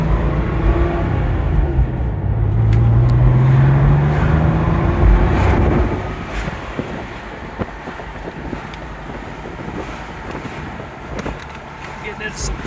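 Steady engine rumble and road noise heard from inside a moving 1996 Porsche 911 Cabriolet in traffic, with a low droning tone that fades somewhat partway through.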